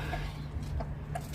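A hen brooding over newly hatched chicks gives three soft, evenly spaced clucks over a low steady hum, faint and close.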